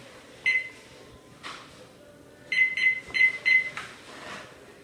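Kitchen timer being set while making artisan bread dough, giving short electronic beeps: one single beep, another a second later, then a quick run of four or five beeps, fairly faint against quiet room noise.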